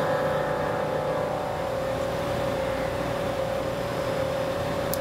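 A pump fills the fluid tank of a QuickTap punching tool for a B station, giving a steady mechanical hum with a constant tonal drone, close and unchanging throughout.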